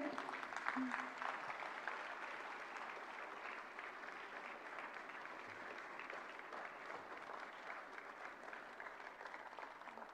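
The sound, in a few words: loud applause for first Ayushman Bharat beneficiary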